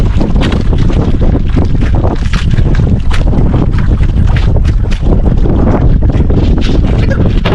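Loud, relentless wind buffeting a moving fishing boat, roaring and gusting without letup, with rushing water beneath.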